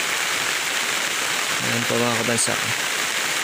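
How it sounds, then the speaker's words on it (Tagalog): Heavy rain pouring in a mountain setting, a constant loud hiss of falling water throughout, with a voice speaking briefly over it. "umuulan po ngayon, basang-basa na po kami"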